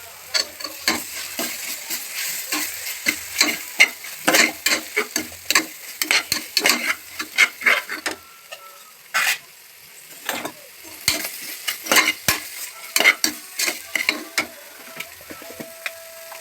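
Ginger-garlic paste sizzles and fries in a pan for chicken biryani while a utensil scrapes and clatters against it in repeated stirring strokes, close and fairly loud.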